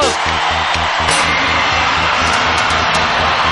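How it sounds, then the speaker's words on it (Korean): Crowd at a short track speed skating event cheers for a coach, a loud continuous roar of voices with whoops and yells and no pauses. "강동 코치에 환호하는 모습"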